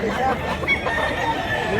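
A year-old rooster at a Cebu poultry market crows and clucks amid busy background chatter, with a person's voice mixed in throughout the short stretch of sound.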